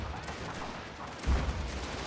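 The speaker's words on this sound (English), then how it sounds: "one cannon seems to be able to fire that way. Or has maybe fired already" A cannon firing in a strategy video game battle during a Prussia campaign: one deep, heavy boom partway through over a low rumble of battle.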